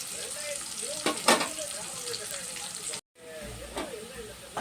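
Onions sauté in a pan for a home-cooked dish, giving a steady soft sizzle and hiss with a couple of brief louder bursts, while someone talks over it.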